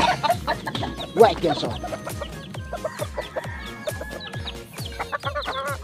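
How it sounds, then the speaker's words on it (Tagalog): Young pet chicks in a small backyard poultry pen cluck and peep steadily at afternoon feeding time, with a rooster-like call and brief talk over the busy, overlapping chatter. "magpapatuka na po ng ating mga alagang sisiw"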